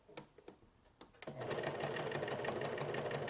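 A sewing machine stitches elastic onto a child's top, starting with a few soft clicks and taps before breaking into a loud, steady, fast-running whir of stitching that continues to the end, close up.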